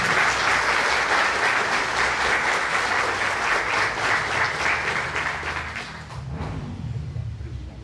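Sustained crowd applause from a lecture audience welcoming a guest speaker, dense and steady for about six seconds before thinning out near the end.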